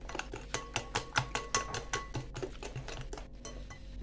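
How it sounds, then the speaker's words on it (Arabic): A hand whisk beats eggs with sugar in a bowl, its wires clinking against the sides in quick, regular strokes, close and fairly loud at first before gradually slowing and softening. "ممكن نحركوا هذا البيض مع هذا السكر حتى يندمج مع بعضياته"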